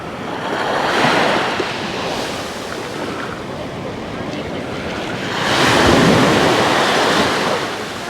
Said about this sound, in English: that is Venus Beach in Paphos